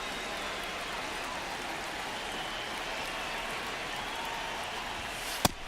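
Steady rain pours across a baseball field in MLB The Show 26, a constant dense hiss with no letup and one sharp crack near the end.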